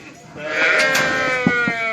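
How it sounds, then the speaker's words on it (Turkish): A sheep bleats loudly and close in a barn pen, one long wavering cry with a shorter bleat trailing after it. "Bakın koyun kendisi gidiyor"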